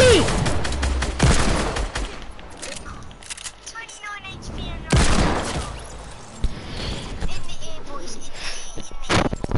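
Rapid video-game gunfire crackles in bursts throughout, with sharp shots loudest near the start and around the middle, under constant excited talk between players.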